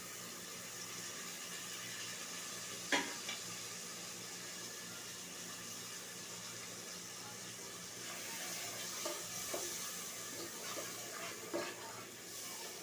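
Sea fish braises with turmeric, coriander and other spices in a pan. A soft, even sizzle runs throughout, with occasional spatula scrapes and taps, heaviest toward the end.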